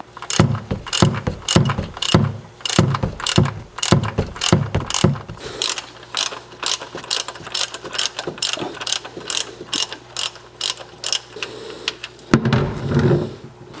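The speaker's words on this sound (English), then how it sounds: "I'm going to get under the vehicle and remove the drain plug." Ratchet wrench loosening the oil drain plug underneath a VW GTI, a long, loud, close run of rapid rhythmic clicks, ending in a brief clatter, with no talking.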